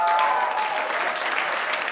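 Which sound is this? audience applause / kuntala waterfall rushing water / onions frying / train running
audience applause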